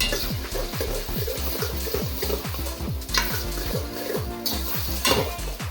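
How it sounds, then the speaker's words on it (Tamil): Grated coconut being sautéed in ghee, with a rapid, rhythmic scraping and clinking of a spoon against the pan over a constant sizzle, close and loud. "இந்த தேங்காய் இருக்குல்ல, அதையும் வந்து ஒன்றா போட்டு நல்லா மிக்ஸ் பண்ணி நெய்யில் ஒரு 5 நிமிஷம் நல்லா வதக்கிக்கணும்."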